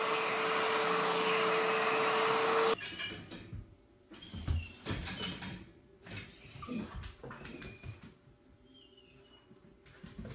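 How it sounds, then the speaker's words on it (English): A vacuum cleaner used on a dog hums steadily for a few seconds, then cuts off, followed by rustling, thumps and movement noises nearby. "Look what happens when you vacuum the dog."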